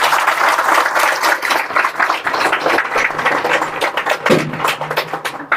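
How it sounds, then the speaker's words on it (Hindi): An audience at a motivational speech claps loudly, a dense, uneven burst of many hands close by that continues throughout with a few sharper individual claps. "तो तीनों के लिए जोरदार तालियां"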